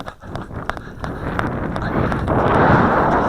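Gusty wind buffets outdoors on a windy day where a Hubsan H111 Q4 nano drone is flown, building into a steady roaring rush with scattered knocks early on.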